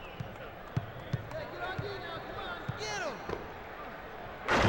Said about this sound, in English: O'Neal slams it down with one hand.